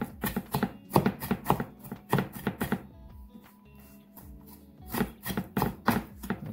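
Knife chopping food on a cutting board while preparing a tinned mackerel and salad bowl, giving fast bursts of close, crisp taps with a short pause midway before the chopping picks up again.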